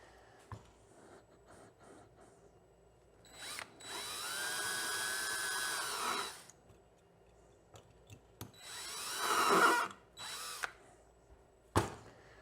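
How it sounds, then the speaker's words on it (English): A power drill bores out the low-speed air screw on a Yamaha TTR110 carburetor in two sustained whining bursts of a few seconds each, separated by short clicks and handling noises, close and fairly loud. "So let's drill that and get that low speed screw out."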